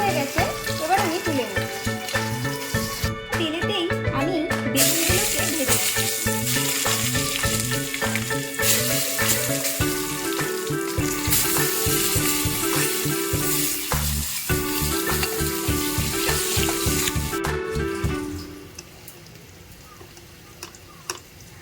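Food fries in hot oil with a loud, continuous sizzle and crackle, with stirring scrapes close by, and the sound fades at the end.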